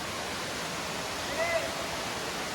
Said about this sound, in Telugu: Kongala water fall